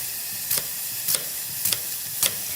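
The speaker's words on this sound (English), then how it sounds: "You can hear the apple sizzling." Apple pieces sizzle in a heavy stainless steel skillet, with four evenly spaced bursts of stirring or scraping over a steady frying hiss, close and moderately loud with no voices.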